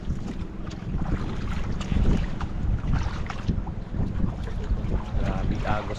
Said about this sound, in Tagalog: Hangin lang malakas mga idol,